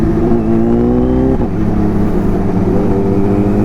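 A Kawasaki Ninja H2 motorcycle producing well over 200 bhp accelerates hard, its engine drone loud, close and continuous, pitch climbing steadily with a brief shift blip midway.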